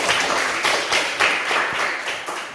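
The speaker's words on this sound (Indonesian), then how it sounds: "tepuk tangan dulu" A classroom of pupils claps together in short, rhythmic bursts, the group's hands striking in a rough pattern, close and fairly loud with no talk over it.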